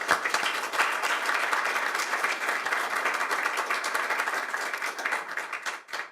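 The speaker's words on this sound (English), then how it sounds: "So round of applause for our sponsors." Audience applause at a conference on organics and solid waste processing, dense even clapping from a roomful of people that stays level and then fades quickly at the end.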